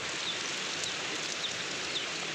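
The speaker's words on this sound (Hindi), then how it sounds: "इतना बड़ा बड़ा बर्फ का गोला गिर रहा है आसमान से बारिश से" Heavy rain with large hailstones pours down outdoors in a steady, dense hiss, loud and unbroken, with a few faint high chirps now and then.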